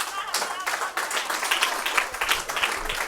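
Audience applause at a Hindi kavi sammelan poetry gathering, a steady crowd of many clapping hands, fairly close and continuous, with some voices mixed in.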